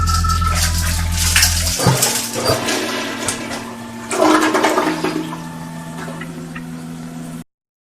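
A toilet flushes in a loud, close rush of water that swirls and gurgles for several seconds, then settles into a steady trickle as the tank refills.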